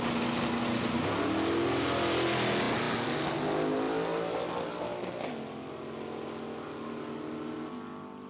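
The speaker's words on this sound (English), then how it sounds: "It's a 1994 Victory race car. It's got a 522 Chevrolet in it." A 1994 Victory race car with a 522 Chevrolet engine revs hard and loud, its roaring note sustained and rising before easing slightly toward the end, with no voices present.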